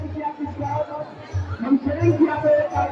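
Devotees crowding inside Shyama Mai temple in Darbhanga, a steady murmur of many voices close around, with low rumbling footsteps and movement beneath the chatter.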